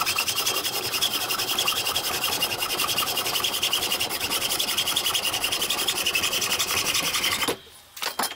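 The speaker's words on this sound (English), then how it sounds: "Just using a standard hacksaw." A standard hacksaw rasps through a wooden nunchuck piece in steady, rapid back-and-forth strokes, loud and close, then stops abruptly near the end with a few brief clatters.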